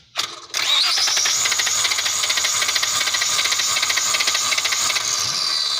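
A car's engine cranks without starting during a spark test on the number 5 cylinder of a no-start fault, heard close and loud. A short burst opens, then steady rhythmic cranking pulses run for about five seconds.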